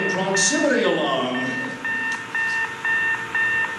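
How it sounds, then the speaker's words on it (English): A sci-fi proximity alarm aboard a ship in an audio drama beeps in a steady repeating pattern of short electronic tones, loud and close, after an opening swell of other sound effects. "that rather annoying proximity alarm"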